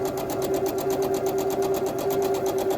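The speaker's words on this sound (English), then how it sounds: "I kind of just sew off the end." Sewing machine running in a fast, steady stitching rhythm while sewing a quarter-inch seam on a quilt block, close and continuous with no talking.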